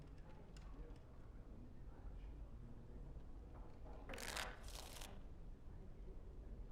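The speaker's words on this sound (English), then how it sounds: "Before we start, the cards must be shuffled." Cards shuffled for the Wicked Grace game in Dragon Age Origins, two short crisp riffling bursts near the end over a quiet room-like background.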